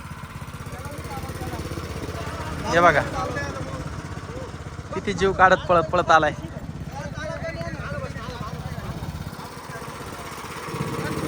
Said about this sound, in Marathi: आपला ट्रॅक्टर पुन्हा एकदा चालू झाला आहे